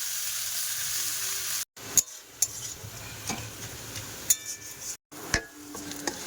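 Onion, garlic and ginger sizzling steadily in a hot pan, a continuous crackling hiss broken by occasional stirring clinks and brief pauses, fairly close with no talk.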